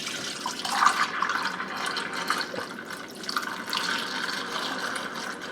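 Water draining from a pot of rendered venison tallow, a trickling, splashing flow with small drips and gurgles, fairly close and steady with no talking.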